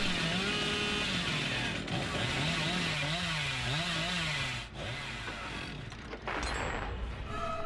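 The Hillbilly's chainsaw from Dead by Daylight revs and idles in a rising and falling engine whine, loud and continuous, with a few sharp clicks and impacts of game sounds around it.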